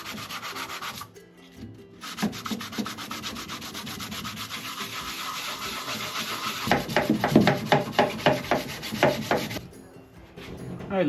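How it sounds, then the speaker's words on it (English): Close rubbing of sandpaper on a 1987 Jeep Wrangler body panel, long even strokes that turn into quicker, rhythmic scrubbing before pausing. "light sanding complete"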